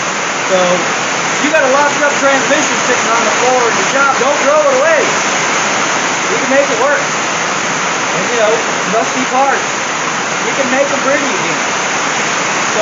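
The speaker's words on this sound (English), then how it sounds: "I apologize for the rain, metal building, you know, lots of noise." Heavy rain drums on a metal shop building in a constant loud roar, with someone talking throughout over the noise.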